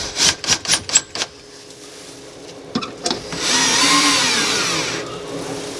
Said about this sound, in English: I'm going to take a 1x2 with some shallow screws, and I'm going to simply just screw it to even with the bottom of the countertop